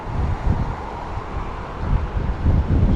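Steady, heavy wind roar buffets the microphone with low rumbling gusts, loud and continuous throughout, while riding a Honda Forza 250 scooter at about 70.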